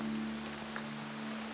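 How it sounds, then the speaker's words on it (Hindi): Heavy rain falls steadily, a dense even hiss under a faint low hum, with no voices during the brief stretch. "बारिश काफी तेज है।"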